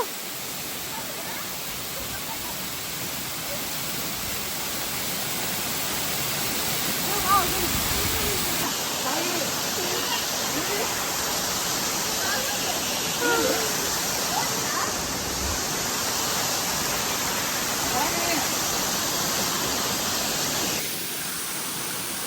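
Water pours steadily over Kuli Magod Falls, a dense unbroken roar of rushing water that stays loud and close throughout.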